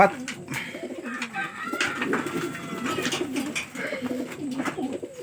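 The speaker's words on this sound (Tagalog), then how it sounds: "Yan mga kalapatids." Racing pigeons coo softly and repeatedly nearby, their low, throaty calls overlapping in a continuous murmur with a few faint flutters in between.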